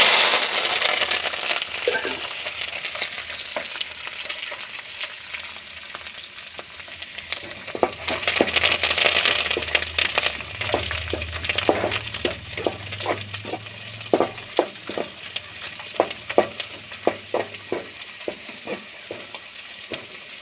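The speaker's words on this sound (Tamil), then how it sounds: "ரெண்டுமே எண்ணெயில் பொரிஞ்சால் நல்லாயிருக்கும்." Garlic and curry leaves fry in hot oil for a village garlic-pepper kuzhambu, a steady close sizzle broken by repeated sharp stirring clinks and scrapes of a spoon against the pan.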